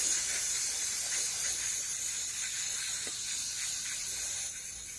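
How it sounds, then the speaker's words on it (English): Brake cleaner sprays in a steady, close, airy hiss onto a hydraulic cylinder part during a rebuild, tapering off slightly at the end. "I normally wouldn't use brake clean, but I'm just using it for this video"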